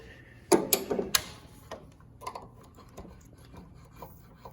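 A tool pries at the carburetor on an Ariens Sno-Tek snow blower, with a quick cluster of sharp metallic scrapes and clicks followed by softer scattered taps and rubbing.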